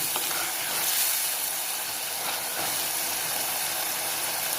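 Prawn gravy ingredients sauté in a hot pan, making a constant loud hissing sizzle close by with no pauses.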